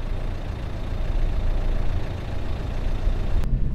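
A Mercedes-Benz A180D A-Class AMG Line with a 1.5-litre 107 bhp diesel engine running, a steady low rumbling drone at close range that cuts off abruptly near the end, with no voices.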